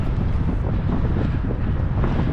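Gusty wind buffets the microphone in a continuous loud, broadband roar outdoors near the water, with no voices heard.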